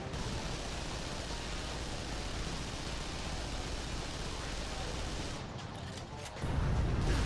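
Gunfire in the video game Vanquish while destroying turrets, a dense continuous hiss-like barrage of rapid shots holding steady, then breaking up briefly before a heavier low rumble surges in at the end.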